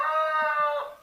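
A rooster crows once in the small hours before dawn, a loud, close, drawn-out call about a second long that fades slightly at the end, with no voices over it.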